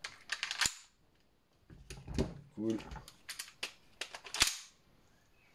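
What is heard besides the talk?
BB pistol shots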